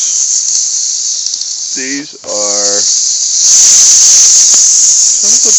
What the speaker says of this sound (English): These are cicadas.